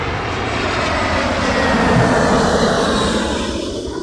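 C-17 military transport aircraft passing overhead at London Heathrow Airport, a loud, continuous roaring drone that swells slightly as it goes over, with no talk.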